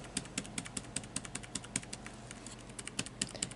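Laptop keys are pressed rapidly and repeatedly, a close, crisp run of light clicks at an uneven rhythm, with no talking.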